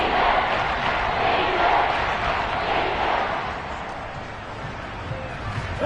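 An American football stadium crowd at a Lions playoff game roars on third and goal, a broad, sustained wall of cheering and shouting that swells and stays loud while a commentator talks over it.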